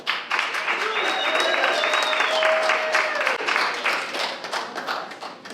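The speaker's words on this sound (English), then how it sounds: "let's go ahead and start clapping for our first reader of the night" An audience at a literary reading night claps for the first reader, a dense, lively burst of applause with some voices and a whoop rising over it before it thins out.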